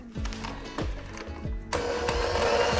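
A blender whirs through a rum cake fruit mixture, pulsing in three short bursts before running continuously at full power, loud and close with no talk.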